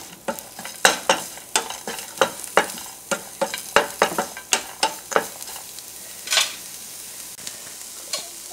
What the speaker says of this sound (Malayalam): പിന്നെ കുറച്ച് ബീൻസും ഇതുപോലെ ചെറുതായി അരിഞ്ഞത് കേട്ടോ. ഇത് നമുക്ക് ഇട്ടിട്ട് വഴറ്റി കൊടുക്കും.